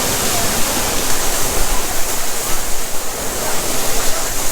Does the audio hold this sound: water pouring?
yes